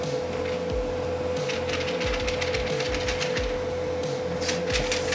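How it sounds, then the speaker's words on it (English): A paint booth exhaust fan runs with a steady hum and airy rush, joined by intermittent rubbing and clattering handling noises close by. "So this means it's a fan"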